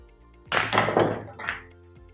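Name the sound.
billiard cue shot striking balls on pool table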